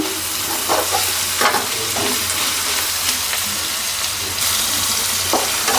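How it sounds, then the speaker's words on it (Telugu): Egg fried rice sizzles and fries in a pan after salt is added, giving a steady crackling hiss with the scrape and clatter of stirring throughout, close and fairly loud. "ఉప్పు వేసుకొని అయితే ఇలా ఒక ఫోర్ ఫైవ్ మినిట్స్ అయితే ఫ్రై చేసుకుందాం"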